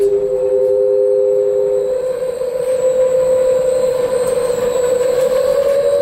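Bock/BEP FP-95 all-stainless perforated basket centrifuge for food processing spinning at speed, a steady loud tonal whine with a slowly rising pitch over a constant mechanical rush, no voices.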